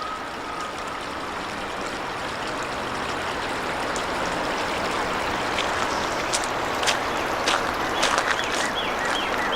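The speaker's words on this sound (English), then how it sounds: "A bunch of water coming down from here, probably from up where the quarry is." A constant rushing of water flowing down a hillside beside an abandoned highway, like a stream spilling downhill, with faint clicks and ticks rising over the steady wash toward the end.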